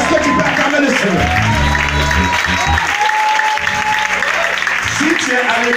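A church congregation applauding and cheering the Lord during a worship service, loud sustained clapping and crowd noise throughout, with voices shouting and calling out over the applause.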